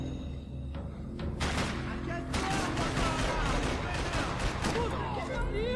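Gunfire from the Max Payne 3 video game, several sharp shots at intervals over a steady background of game ambience, with someone talking over part of it.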